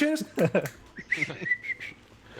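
A person whistles in short rising notes, preceded by a brief burst of speech, close and moderately loud.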